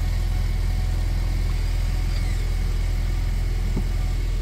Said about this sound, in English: Turn the vehicle on.